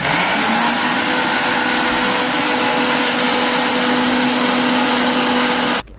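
A kitchen mixer grinder whirs loudly and steadily, briefly blitzing coconut and green chillies for a Kerala mathanga payar erissery, running at constant speed for about six seconds before cutting off abruptly.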